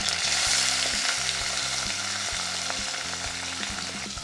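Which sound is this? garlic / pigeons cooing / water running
garlic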